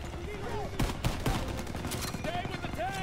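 Gunfire from the Call of Duty WWII campaign, several sharp shots and bursts close together over a busy battlefield backdrop, with voices talking around them.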